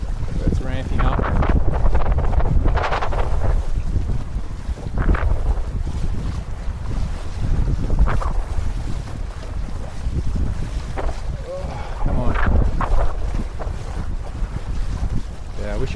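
Gusty wind buffets the microphone out on the water at Pittwater during a windsurfing session, a loud, close roar that swells and eases in irregular gusts, with water noise underneath and a voice speaking at times.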